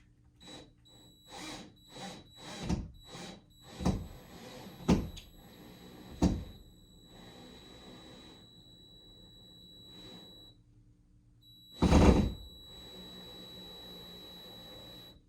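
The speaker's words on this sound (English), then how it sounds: "you take your screw into the plastic stopper that you just put in, and you drill it into place" A drill drives a screw into a plastic wall anchor while a picture is hung, with short repeated bursts of whirring and sharp knocks, followed by a longer steady run and one final loud burst.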